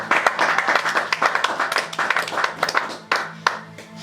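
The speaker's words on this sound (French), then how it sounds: "On acclame pour la parole." A church congregation claps together during a worship service, a dense run of hand claps with uneven rhythm that swells and eases over a few seconds, fairly close and loud.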